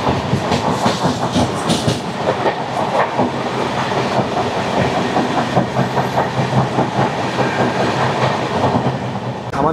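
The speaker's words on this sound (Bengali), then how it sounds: "আমাদের ট্রেন পার করছে সীতারামপুর জংশন" The Poorva Express, running from Howrah to Delhi, rolls through Sitarampur Junction, its wheels beating a loud, rhythmic clickety-clack over the rail joints under a continuous rumble of carriages heard from on board.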